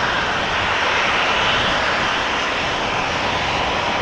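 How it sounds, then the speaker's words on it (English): A Transavia Boeing 737 roars loudly on its takeoff run at Schiphol, a dense, sustained jet-engine rush with no voices over it. "I think it's the first Transavia that we see take off"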